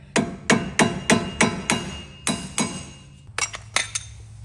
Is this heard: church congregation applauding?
no